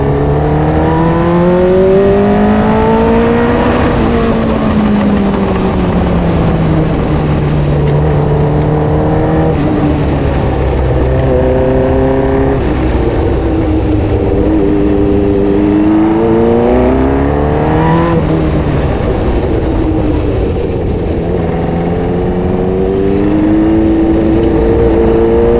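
Formula 1 race car with an analog rev counter, fuel and oil temperature gauges, driven on a racing circuit: loud, continuous onboard engine howl that rises and falls through repeated upshifts and downshifts, with no talking.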